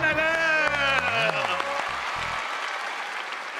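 A studio audience on a Thai TV singing contest bursts into applause that begins under a voice and music, then carries on alone as a steady, moderately loud patter of clapping.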